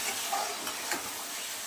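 Curry masala with potato and eggplant sautés in a pan, giving a close, steady sizzling hiss broken by light scrapes of stirring.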